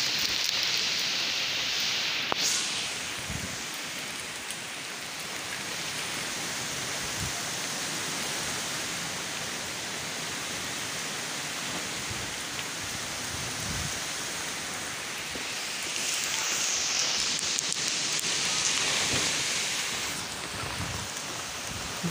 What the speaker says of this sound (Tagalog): Grabe pong ulan dito